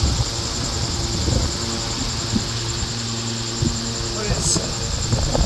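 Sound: 775 high speed electric motor running

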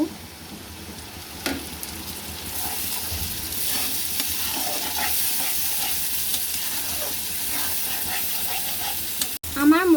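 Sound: spice paste frying in the pan with prawn curry

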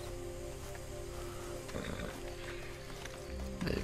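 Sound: horse neighing in video game Red Dead Redemption 2

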